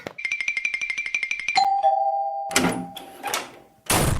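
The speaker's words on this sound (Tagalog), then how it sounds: "ako naman ang pipindot ng doorbell" A doorbell plays a rapid run of repeated chimes, then a sustained ding tone rings out, followed by bursts of scuffling noise nearby.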